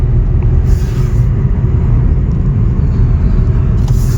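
A Maruti Suzuki Fronx drives through city traffic in Hyderabad, heard from inside as a steady, loud low engine and road rumble with no talk.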